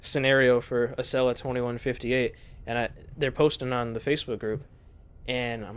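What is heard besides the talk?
No everyday noises stand out.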